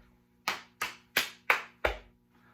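Five distinct, evenly spaced body-percussion hits from a music lesson, crisp slaps and claps on the chest, lap and hands, each sharp attack fading quickly in a quiet room.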